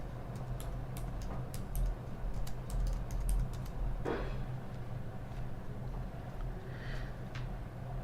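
Quiet, quick keystrokes tap on a computer keyboard in short irregular bursts over a low steady hum, with a louder key press midway.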